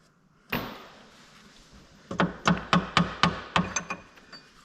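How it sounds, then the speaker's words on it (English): A sharp single knock, then a run of seven or eight quick, evenly spaced metallic taps from a small hammer on a CAT C13 engine, close up. "Guess I need a little tap hammer."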